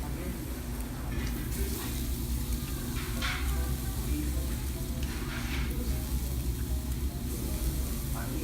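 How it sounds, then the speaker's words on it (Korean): Bulgogi sizzles on a wire grill at a Korean restaurant, giving off a soft, steady crackling hiss with a few brief spattering bursts, faint against a low room hum. "석쇠 위에서 지글지글 구워지는 불고기 소리."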